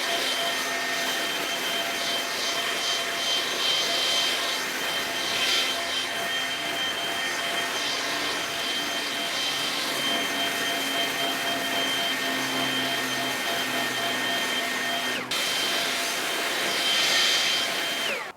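A Stihl BGA 57 cordless leaf blower clears leaves outdoors with a steady, close, airy whoosh and a high whine that swell and ease as it sweeps.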